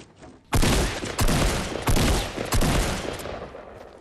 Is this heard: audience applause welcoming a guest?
no